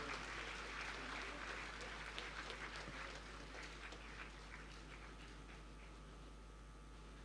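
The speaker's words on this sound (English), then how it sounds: "Applause, please." Faint, distant applause from an audience at a public event, a steady wash of clapping that slowly fades over several seconds against a low background hum.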